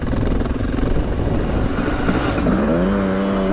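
A 700cc two-stroke dirt bike engine revs hard and loud, its pitch climbing sharply near the end as the throttle opens up.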